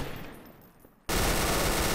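Quiet at first, then a sudden loud, dense burst of rapid gunfire in Garry's Mod Trouble in Terrorist Town, on a train, that continues without pause.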